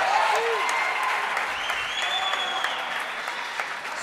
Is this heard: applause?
yes